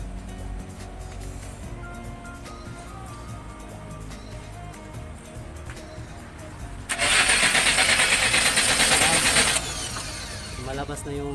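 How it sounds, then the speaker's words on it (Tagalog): A diesel loader engine that cranks but won't start cranks with a loud, steady whirring burst for a few seconds, rising above a background of rumbling and people talking. "ating ika-crank yung makina para lalabas yung hangin dito sa injector"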